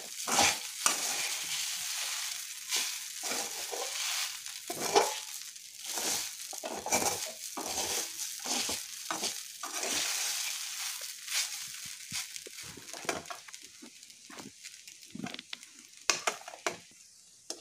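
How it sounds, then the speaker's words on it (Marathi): Oil-free sabudana khichdi being stirred in a pan, with a steady run of scraping, scuffing strokes and a faint dry sizzle throughout, close and moderately loud with no talking. "खिचडी सतत हलवत राहायची"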